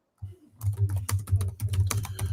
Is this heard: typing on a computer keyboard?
yes